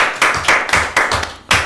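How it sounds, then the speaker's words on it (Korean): A small gathering of seniors at a Korean community talk session claps together, loud and close, in irregular bursts of hand claps with brief gaps, with no talk over it. "박수 한번 쳐주시죠."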